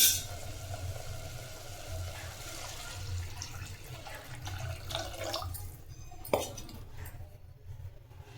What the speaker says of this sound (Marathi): गरम पाणी घातलं आहे एक उकळी द्यायचं आहे